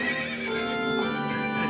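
Epona the horse neighs in the video game Ocarina of Time, a loud, sustained whinny lasting the whole clip with no talking.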